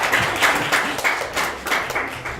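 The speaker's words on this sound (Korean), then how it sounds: "박수." Short burst of audience clapping at a PyCon Korea 2015 talk, a handful of distinct pulsing claps in a loose, uneven rhythm rather than a full ovation.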